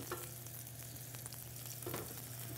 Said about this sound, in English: And you're just pan frying it like that